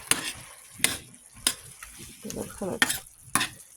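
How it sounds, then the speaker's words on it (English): Fried apples being stirred in a pan, producing a series of sharp scraping clacks of a utensil against the pan over a soft, steady sizzle, close and fairly loud. "Taking the lid off, I'm going to give this a stir."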